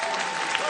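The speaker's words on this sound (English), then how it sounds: "Thank you for clapping." A comedy club audience claps during a stand-up set, a brief, dense burst of applause at close range with no speech.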